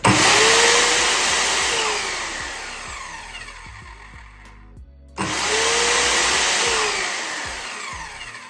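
An Evolution R185CCSX track saw runs at a loud high whine, winds down under its electronic brake, then starts again with a soft start and spins back up to full speed.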